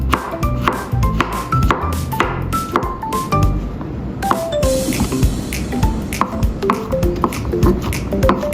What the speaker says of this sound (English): Diced shiitake mushrooms.